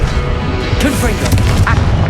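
Heavy booming fire-spell blasts in the wizarding video game Hogwarts Legacy, loud and dense through the whole stretch, with a few sharper bursts mixed into rumbling game noise.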